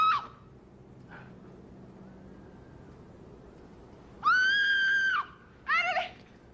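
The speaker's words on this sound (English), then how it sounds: "A 3-count, a scream, and another 3-count, then a long scream with my name." A woman screams in a tense drama scene: after faint sounds, two loud, sustained shrill screams ring out near the end, the first held about a second, the second shorter and wavering.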